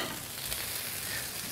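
Meatballs frying in a pan, a steady, even sizzle of fat that continues without a break, moderately close and alone with no voices.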